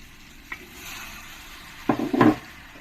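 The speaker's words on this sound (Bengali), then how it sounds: "তোমরা চাইলে আলুগুলো ভালো করে তেলের মধ্যে দিয়ে ভেজে নিতে পারো" Potatoes fry in hot oil in a kadhai and get stirred, a faint sizzle underneath with a few short scraping stir strokes near the end, close and fairly quiet.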